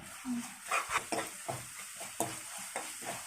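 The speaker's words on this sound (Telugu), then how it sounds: "పచ్చి వాసన లేకుండా బాగా వేగాలండి ఇది." Ginger paste fries and gets stirred in a pan, with soft irregular scraping and intermittent sizzle close by, fairly quiet with no talking.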